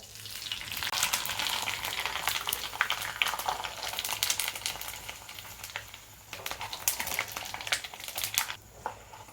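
Semolina papads frying in hot oil, a dense close crackling sizzle with bursts of popping bubbles throughout, loud and busy, easing off toward the end, no speech.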